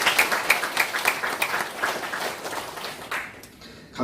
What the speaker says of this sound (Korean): 우리 박수해 주시고 감사하겠습니다